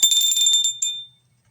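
A bright notification bell chimes as an end-of-video subscribe cue, ringing with a clear metallic tone for about a second before fading, followed by a faint short ding near the end.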